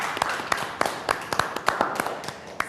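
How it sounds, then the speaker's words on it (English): A small studio audience claps in a thin, uneven rhythm for a photography class, with distinct sharp hand claps spaced closely together, fairly near and steady throughout, with no voices over it. "Let's give Lara a CreativeLive round of applause."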